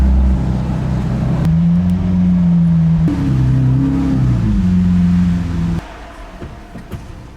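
A Lamborghini Aventador's engine running at a fuel station, a loud deep idle with shifting tonal drones that rise and settle before cutting off, leaving quieter ambient background at the end.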